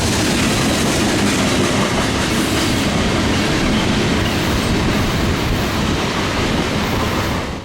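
A Norfolk Southern freight train rolls steadily past at close range, hopper cars and a boxcar producing a loud, continuous rumble and rattle of wheels on rail that holds throughout before cutting off abruptly at the end.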